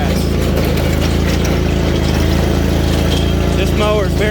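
John Deere Z410A 48-inch zero-turn riding mower cutting grass set very low, its engine droning steadily and close with a constant rumble while someone talks over it.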